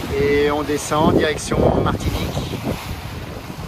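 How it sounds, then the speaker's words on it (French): Wind rushes steadily over a Pogo 30 sailboat at sea in 17–18 knots on an ocean crossing, a loud, continuous roar under someone speaking French. "Et là, on a un vent superbe. 10, 17, 18 nœuds."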